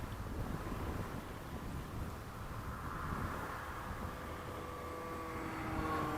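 HobbyKing Athena carbon-fibre and balsa warmliner RC plane with a big propeller, flying overhead: a steady, distant motor-and-prop drone mixed with wind rush, slowly rising in pitch toward the end.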